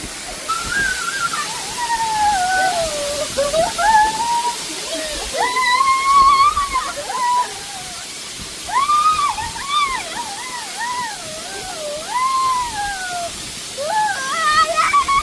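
A waterfall on the path to the Jwala Narasimha Swamy temple at Ahobilam rushes steadily and loudly throughout, while a person talks over it.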